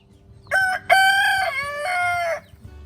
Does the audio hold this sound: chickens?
yes